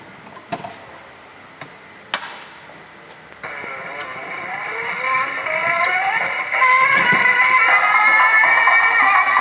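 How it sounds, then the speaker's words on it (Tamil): A vintage hand-cranked gramophone starts with a few clicks and knocks, then a song swells in with tinny tones that grow louder and fuller over several seconds, close by. "கையில் சுற்றிட்டோம்னா ஒரு பாட்டு கேட்கலாம்"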